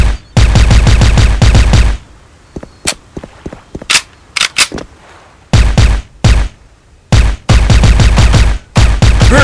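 Christmas-skinned AK74 with a silencer fired in a Special Force video game: loud bursts of rapid automatic fire at the start and end, with scattered single shots, clicks and short bursts in between.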